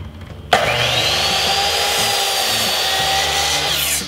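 A power drill runs steadily, driving trim screws into a wooden window flower box, a loud continuous whir starting abruptly and holding for several seconds before easing off at the end.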